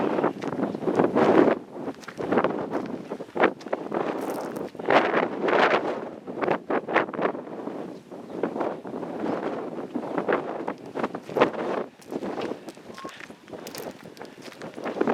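Outdoor wind at Land's End and St Ives buffets a microphone despite wind muffs, making loud, gusty rumbling bursts that rise and fall irregularly throughout with no talking.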